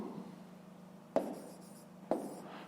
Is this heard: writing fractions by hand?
yes